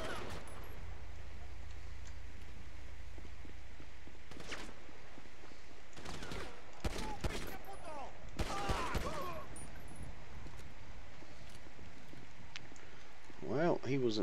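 Gunfire in GTA V during an LSPDFR police patrol in an unmarked Holden VE Commodore Omega: scattered bursts of shots at middle distance, several sharp cracks clustered mid-clip over a low wind-like background, with a voice speaking.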